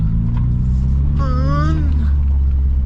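A 1972 Ford Pinto with a 4-speed manual being driven around a house, its engine giving a loud, steady low rumble close by. The pitch climbs briefly as it revs before settling back down.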